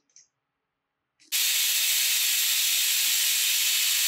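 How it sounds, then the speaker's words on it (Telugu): After a couple of faint clicks, a pressure cooker holding vermicelli and water blasts out its whistle, a loud, close, steady hiss of escaping steam that holds for several seconds. "చూడండి 2 whistles వచ్చేసాయి కదా"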